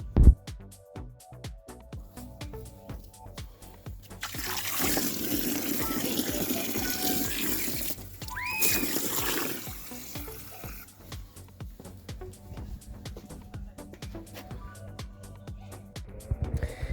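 A tub is filled with water for an ice bath, tap water gushing loudly into it in a long burst, then quieter splashing and trickling with clanks and handling noises nearby.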